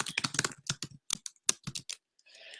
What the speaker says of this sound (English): I'm typing the question in